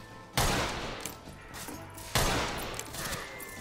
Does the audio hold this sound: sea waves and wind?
no